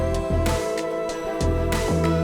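A loud, dense electronic beat made on an Akai Force, with a choppy stutter effect, the sound cutting in and out in quick repeated bursts.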